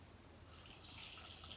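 Spiced chai pouring through a sieve into a pot gives a faint, steady liquid trickle with soft dripping, continuous for a moment at low level with no voices.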